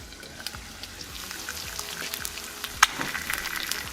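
An egg fries in oil in a pan for a Mexican chorizo torta, giving a steady, soft crackling sizzle with scattered small pops and one sharper spatter, heard close with no voices.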